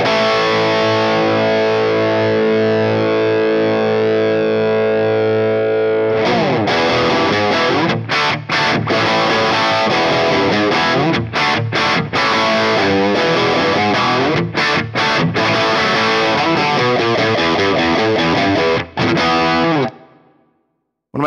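Heavily distorted electric guitar played through a Christian Cole DV77 Angry cabinet impulse response on a Fractal Audio Axe-FX: one long sustained chord rings for about six seconds, then loud chugging riffs with sharp stops continue for roughly fourteen seconds before cutting out.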